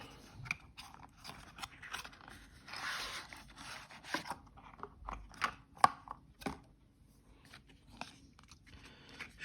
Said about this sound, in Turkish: Evet kapağı açıyoruz.